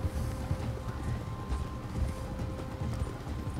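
Rhythmic clip-clop of horse hooves at a steady run in the video game Red Dead Redemption 2, fairly close, continuous throughout with a low rumble underneath and no talking.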